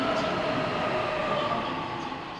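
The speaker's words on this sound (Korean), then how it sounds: "양산행 열차가 들어오고 있습니다." Steady rumbling roar of a subway train bound for Yangsan pulling into a station, with a sustained metallic tone and a faint voice announcement in the background.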